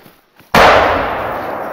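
A single loud rifle shot fired at a moose while hunting outdoors, one sharp close blast with a long rolling decay after a quiet lead-in.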